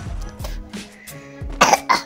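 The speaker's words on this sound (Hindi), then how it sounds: "खांसी है तेरे को?" A few harsh coughs and throat-clearing bursts come in quick succession, close and fairly loud, separated by brief pauses, during a Free Fire Max game.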